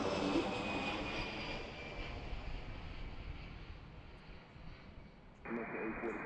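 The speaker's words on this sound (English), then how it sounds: "Here comes the next departure." A departing airliner at Washington Reagan National Airport gives a steady, fairly distant broadband jet roar, with wind buffeting the microphone; the roar fades slightly toward the end.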